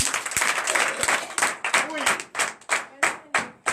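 A church congregation at a morning prayer service bursts into rhythmic hand clapping and applause, loud and close, with voices speaking and calling out over the claps.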